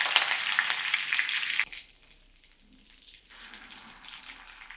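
Green chili hits hot oil for a tempering, giving a loud, bright sizzle that cuts off abruptly after about a second and a half, then a quieter frying hiss resumes after a lull.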